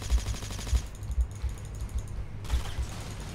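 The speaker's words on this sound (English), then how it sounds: "Oh my god, I love this fucking rifle." Rapid rifle gunfire in the Battlefield 2142 video game, bursts of punchy shots in quick uneven succession with mechanical clatter beneath them.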